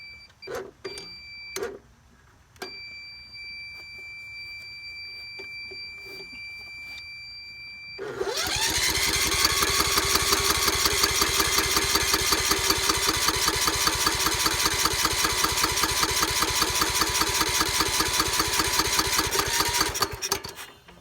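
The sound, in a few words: Husqvarna YT 21 HP lawn tractor engine starting and idling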